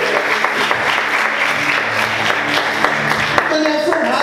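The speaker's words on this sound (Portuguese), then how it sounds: "Você pode aplaudir a Ele por isso." A church congregation applauds with dense, steady clapping at a loud level throughout, while a voice speaks over the applause near the end.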